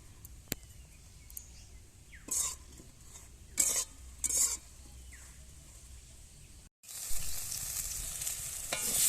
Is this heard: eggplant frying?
yes